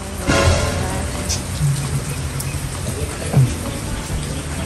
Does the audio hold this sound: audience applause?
no